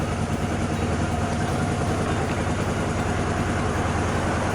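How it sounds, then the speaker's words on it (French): Repaired motorcycle engine idling after a starter fix, a loud, continuous low rumble with steady pulsing and no talk, close to the machine. "Alors, la moto, elle fonctionne."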